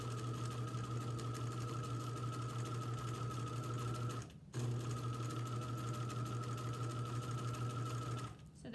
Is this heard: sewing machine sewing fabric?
yes